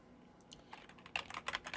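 Close, soft computer keyboard keystrokes enter a web search: a few scattered taps, then a quicker cluster of clicks toward the end, quiet and with no talk.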